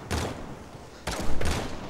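Two bursts of video-game gunfire from Cassie's blast shot and normal shot combo in Paladins, each a loud, sharp crack followed by a short ringing tail, spaced about a second apart with no voices.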